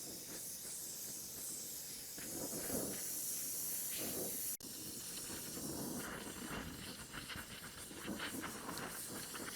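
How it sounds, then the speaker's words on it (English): A cherry-red-hot steel hole saw is quenched and swirled in oil, giving a steady broad hiss and sputter that runs for several seconds at low level, with one brief click partway through. "There we have a nice cherry red hot and into the oil with a bit of a swirling motion."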